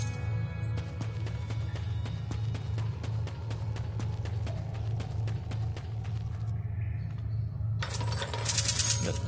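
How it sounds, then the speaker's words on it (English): Coins in the Dungeons Of Eternity video game give a quick run of bright metallic clinks over a low steady hum, followed near the end by a louder shimmering chime. "I see a coin."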